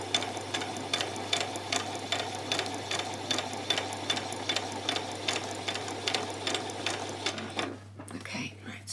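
A sewing machine runs a back stitch along a skirt placket with a fast, even mechanical chatter and a low steady hum beneath, close up, stopping abruptly near the end with a brief rustle of fabric.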